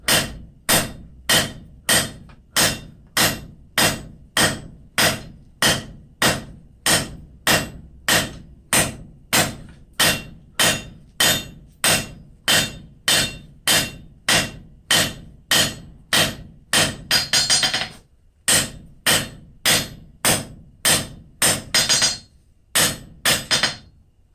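A hammer forges hot steel for pickup tongs on an anvil, a fast, regular run of loud, sharp ringing blows close by, slowing and thinning out with brief pauses toward the end.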